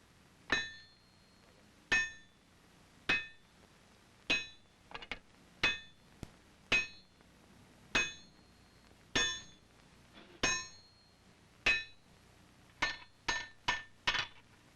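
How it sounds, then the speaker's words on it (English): Blacksmith hammering a bar of solid wrought iron on the anvil at a colonial forge, sharp ringing metallic strikes spaced in a steady rhythm roughly every second or so, with quicker doubled blows in places, close and clear with no talk. "Here he will heat and hammer a bar of solid wrought iron into a flat scalp"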